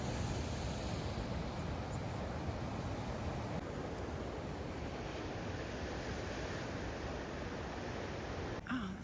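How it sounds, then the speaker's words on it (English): Steady ocean surf rolls continuously along a coastal walking track in New South Wales, a broad unbroken wash of breaking waves with light wind noise, with no talk over it. "The sound of the ocean."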